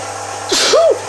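One close, sharp human sneeze with a quick inhaled lead-in, loud and brief over a low steady background hum.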